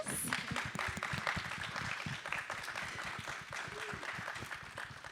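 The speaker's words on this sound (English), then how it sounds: "So if we could give Chris, Cynthia, Stephania, and Jiarui a round of applause." Steady audience applause after a film panel on indie filmmaking, dense clapping sustained across the whole stretch at moderate distance, with some faint voices mixed in.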